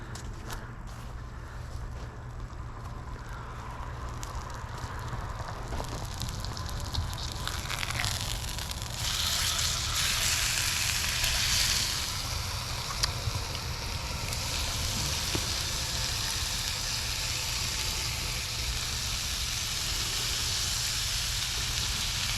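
A big salted steak sizzling as it cooks at a deer camp, a steady hissing fry that swells louder midway and keeps going with no talk over it.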